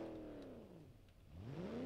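A car engine in the BeamNG crash game, after the car has gone into the water, revving down and then rising again in a faint, steady whine.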